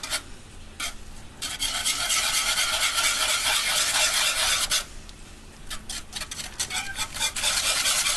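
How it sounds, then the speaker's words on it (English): Whisk stirring red pepper flakes and other spices into sausage gravy in a pan, with rhythmic scraping and swishing in bursts, close and fairly quiet, with brief pauses between strokes. "now I'm going to use my whisk and I'm going to get that all in there"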